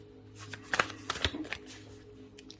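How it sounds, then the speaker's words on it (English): An oracle card deck is shuffled and cards are pulled, giving a cluster of brisk papery riffles and snaps near the middle with a few lighter flicks after, close and fairly quiet with no talking. "I'm going to pull one more card."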